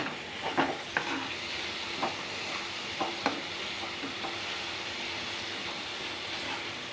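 Tomato and onion for pav bhaji cook in a pan with a steady low sizzle, broken by a few soft stirring clicks and scrapes early on, then settling into an even simmering hiss.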